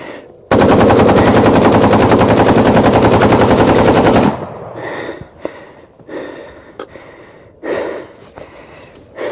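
A Kalashnikov rifle fires one long, very loud automatic burst of rapid shots lasting about four seconds, followed by quieter breathing and handling noises nearby.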